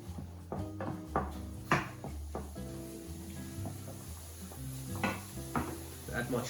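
Onions, garlic and chorizo sizzle softly in a pan, a faint steady hiss broken by clinks and scrapes of stirring, with a tonal hum running underneath.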